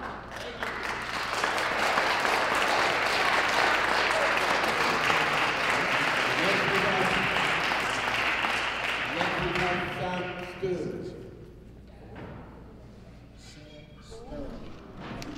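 Dense applause from a crowd at a community board rezoning meeting swells and holds for about ten seconds, then fades into murmuring and voices talking over the room.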